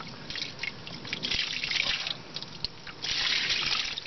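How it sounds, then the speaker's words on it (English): Water poured into a container of soaking paper mixture for making biomass briquettes, a close trickling and splashing that swells in bursts, with no talk. "I'm going to put a little bit more water in there."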